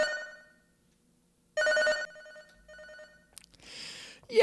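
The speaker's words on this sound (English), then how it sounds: "Yeah, sure, I'll answer the phone." A telephone rings in the video game Catastrophe Crow 64, with two bright bursts of electronic ringing separated by a pause, followed by a noisier rush of sound at the end with no talk.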